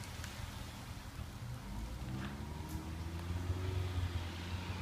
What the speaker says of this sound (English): it's a little rainy today